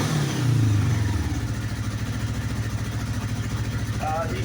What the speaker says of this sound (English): It is a water-cooled motorcycle.